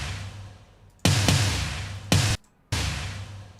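Snare drum sample in a big, bright style, a few sharp cracks with short bursts and abrupt cut-offs over a low background hum.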